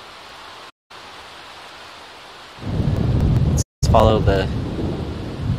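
Rain pours steadily in The Sims, then swells into heavier downpour with a thunder rumble, broken by brief silent gaps, while a voice speaks briefly near the end.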